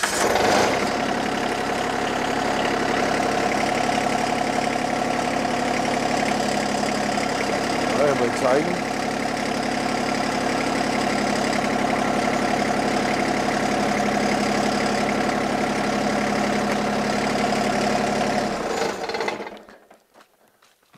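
A Branson 2505h small tractor engine idles steadily and close for about nineteen seconds with a knocking diesel throb, then cuts off abruptly; a person speaks briefly over it.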